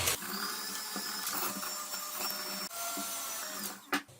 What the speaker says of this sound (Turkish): Ve şekerler eriyene kadar iyice çırpıyorum.